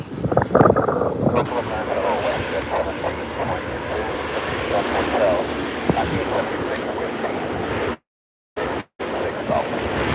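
A Bombardier Q400 turboprop airliner at Vancouver airport gives off a loud, steady engine roar mixed with wind buffeting the microphone, sustained for about ten seconds with a brief dropout near the end.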